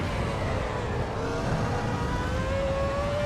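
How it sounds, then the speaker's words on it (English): A 2004 Ferrari engine in a Volvo driving simulator game, holding a steady drone with a slowly rising whine, continuous and fairly close, with no voices over it. "any person that likes cars appreciates the Ferrari 2004 sound"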